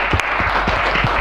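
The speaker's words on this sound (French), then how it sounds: "Acclamation pour vous." An audience of pilgrims breaks into steady applause, a dense, close clatter of many hands that lasts the whole moment without pause.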